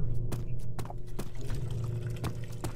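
A shower of blood runs in the horror game Amnesia, a steady liquid pouring and splashing that carries on throughout over a low droning music bed, with occasional sharper clicks.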